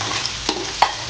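Garlic and onion sautéing in a pan, a soft sizzle under two quick, sharp scrapes of a spoon against the pan, close by and brief.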